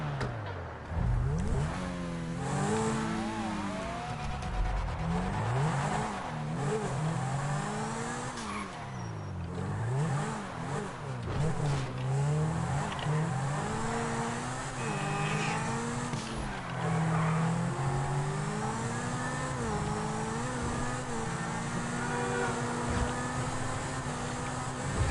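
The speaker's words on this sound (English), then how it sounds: "Just love the way the engine sounds." A Zentorno supercar in GTA 5 revving hard and loud, its engine note rising and falling through repeated gear changes, with bursts of tire squeal and skidding mixed in over the sustained roar.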